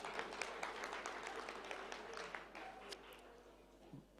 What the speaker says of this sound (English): You can clap because he's a finalist.